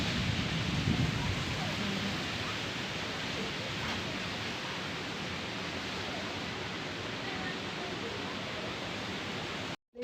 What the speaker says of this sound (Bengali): জোরে জোরে হাওয়া হয়েছে